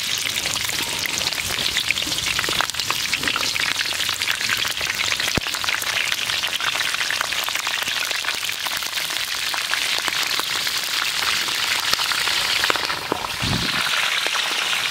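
Fenugreek seeds and green chillies fry in hot oil for a dry fish kulambu, a loud, continuous crackling sizzle that runs unbroken, with one brief low thump near the end.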